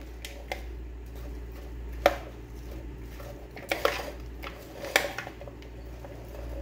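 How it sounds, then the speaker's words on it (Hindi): Fruit chaat ingredients tossed together in a bowl, giving quiet, sparse soft clinks and squishy taps at irregular intervals over a low steady hum, with no talking. "अब इनको मिक्स करेंगे हम अच्छी तरीके से।"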